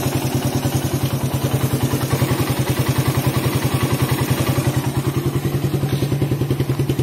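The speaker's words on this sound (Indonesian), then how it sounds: "Irama mesinnya lebih merdu ya, lebih stabil." A Suzuki Satria FU motorcycle engine runs with a PE26 carburetor fitted, with a close, steady, rapid idle pulse and a slight mechanical clatter over it, even throughout.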